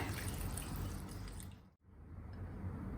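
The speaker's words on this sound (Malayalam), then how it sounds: "ഒരു 1/2 കപ്പ് വെള്ളം ഇപ്പം നമ്മൾ ആഡ് ചെയ്ത് കൊടുത്തു" Half a cup of water poured into a pan of Kerala-style pepper chicken masala, a steady liquid splashing and sizzling that cuts off abruptly, then the soft simmering resumes.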